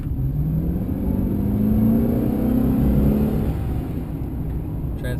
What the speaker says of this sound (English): It does have the 6-liter V8 engine in it